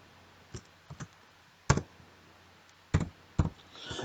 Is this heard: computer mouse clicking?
yes